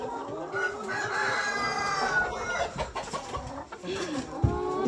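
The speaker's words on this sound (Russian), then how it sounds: "Это куры. Несушки." Laying hens cluck and a rooster crows in a busy farmyard coop, with layered overlapping calls, fairly close and steady throughout, and a few sharper squawks near the end.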